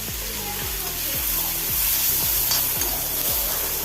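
Dried shark pieces sizzle in hot oil with turmeric, chili powder and curry leaves, stirred steadily, with a constant close frying hiss and a low rhythmic pulsing underneath.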